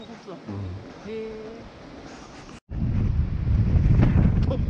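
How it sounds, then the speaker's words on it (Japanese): Wind gusts across a microphone on the Nijozan mountain trail in Kansai in February, starting with quieter sounds and brief voices, then after a short cut becoming a loud, steady rumbling roar. "風吹いてきました。"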